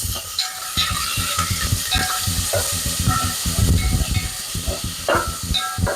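Beef dropped into hot sesame oil in a pot for Korean seaweed soup, giving a loud, continuous close sizzle and hiss with occasional stirring scrapes.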